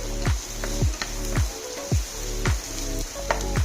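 Chopped shallots frying in a pan give a steady, crackling sizzle, broken by regular scraping strokes roughly every half second as they are stirred, close and fairly loud.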